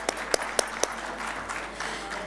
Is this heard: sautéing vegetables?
no